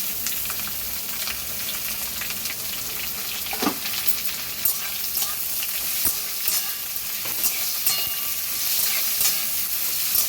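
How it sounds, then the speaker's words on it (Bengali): Carrots and beans stir-frying with lightly fried onions in a pan for mixed fried rice, a steady close sizzle with scraping stirs and clacks of a utensil throughout, no talking. "এবার এর মধ্যে আমি দিয়ে দেবো গাজর আর বিনসটা একসঙ্গে দিয়ে দিচ্ছি"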